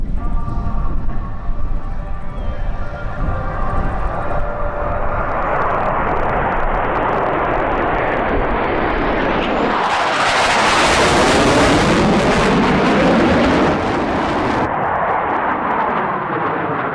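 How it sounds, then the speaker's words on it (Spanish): Blue Angels F/A-18 Super Hornet jets fly overhead in formation, a loud, continuous roar that swells into a harsh, close rush of jet noise before easing slightly, with no talking. "los 6 Super Hornets en formación Delta ejecutan un roll sincronizado de 360 grados"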